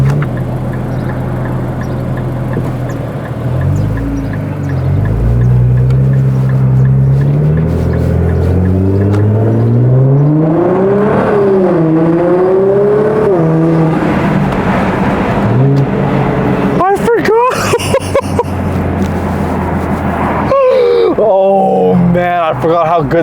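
Nissan GT-R R35 engine revving at its first start of the year, rising and falling pitch sweeps over a steady rumble, loud and close, with brief bursts near the end and someone talking over it.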